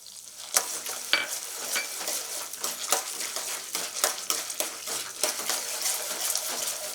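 Peanuts sizzle and fry in hot oil in a pan while making puliyodharai tamarind rice, a steady crackling hiss broken by scraping stirs and light clinks of the spoon against the pan, close and clear.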